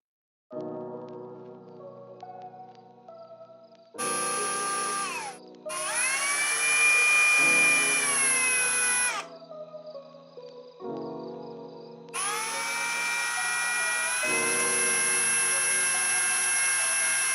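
A power drill bores holes in an acrylic enclosure panel, whining motor pitches shifting as it spins up, bites and cuts in several loud sustained bursts with short pauses between.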